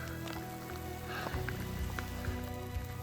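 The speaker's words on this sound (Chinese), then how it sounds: "下太阳雨，哇， 雨中都快被浇透了" Rain falling steadily during a sunshower on a hiking trail near Pioneer Basin, California, a soft patter of drops hitting surfaces nearby, with a faint tonal sound in the background.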